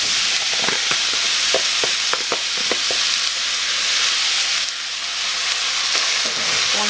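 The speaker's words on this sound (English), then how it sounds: "I'm just going to go ahead and add in all of my ground turkey" Raw ground turkey hits a hot skillet and sizzles loudly and steadily, with a dense hiss and a scattering of small crackles and pops near at hand, no voices.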